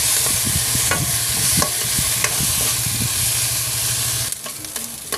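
Black pepper and poultry seasoning are stirred into a sizzling filling in a pan, with repeated scraping strokes and a steady frying hiss, then a louder clatter near the end and no voices.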